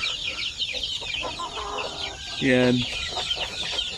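A chicken is held for weighing and clucks and squawks in agitation, with one louder drawn-out call, against a busy, noisy background. A person speaks briefly.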